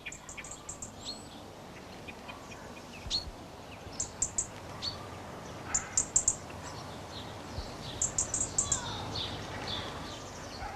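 A European robin in a British garden gives its scolding call: sharp, high ticking notes in short clustered runs, repeated at intervals over a quiet, faintly hissing background.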